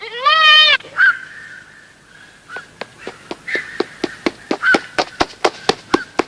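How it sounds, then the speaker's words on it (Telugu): Young goat kid bleating, opening with a loud wavering bleat, then a series of short, sharp repeated calls growing steadily louder and faster toward the end. "ఇది ఎవరి మేకపిల్ల?"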